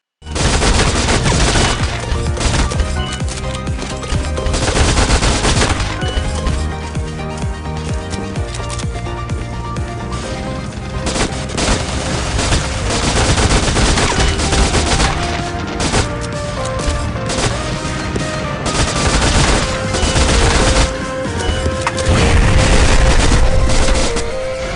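Video game weapon fire, a dense, loud and continuous barrage of shots and booms that runs without a break for the whole stretch, with no voices heard.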